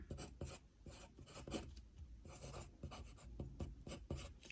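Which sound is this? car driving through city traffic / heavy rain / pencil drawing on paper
pencil drawing on paper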